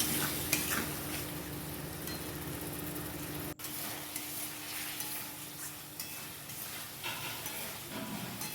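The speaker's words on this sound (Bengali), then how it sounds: "ওই মশলাটা দিয়ে এবার কষিয়ে নেব ভালো করে।" A spice paste of ginger, garlic, onion, green chilli and cumin fries in a pan, a faint steady sizzle with occasional light stirring scrapes and a clink of utensil.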